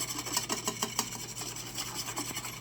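Instant pudding mix being whisked into cold milk in a bowl for a banana cream pie, a steady rapid scraping and rubbing rhythm at close range with no voices.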